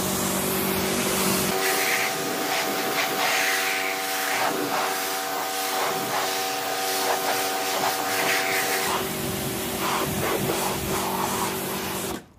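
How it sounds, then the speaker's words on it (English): Pressure-washer water spray rinsing snow foam off a car panel: a loud, steady, close hiss with a constant motor hum underneath that shifts partway through, running continuously without talk. "So what I'm going to do now is I'm going to just rinse this whole panel off up to the top"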